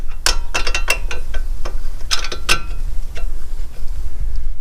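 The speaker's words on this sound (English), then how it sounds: "I'm going to be torquing this to 58 foot-pounds." Torque wrench clicking and ratcheting as a ball joint nut is tightened on a 2006 Nissan Altima lower control arm, several sharp close mechanical clicks spread over a few seconds.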